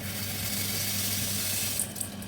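Tap water runs steadily into a sink for washing rice, a close, even hiss and splash with a couple of faint clinks near the end.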